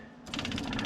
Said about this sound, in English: Let's hook up a fuel pump.